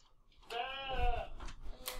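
A voice mimics a goat's bleat, one wavering, drawn-out call with a shorter follow-up sound, close and fairly quiet in an otherwise still room.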